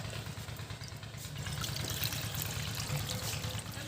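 Hot water streams steadily into a pot for boiling chushi pitha rice dumplings, a soft continuous pour that grows a little fuller midway, faint and close with a low hum underneath.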